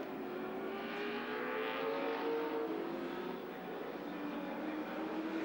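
A touring race car engine at the 1986 ATCC round at Sandown winds up hard in fourth gear on the uphill back straight, a continuous loud in-car roar rising steadily.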